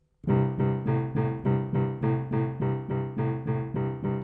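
Piano plays an even, repeated chord pattern in a steady straight beat, simple time blues, about a dozen evenly spaced chords, clear and close.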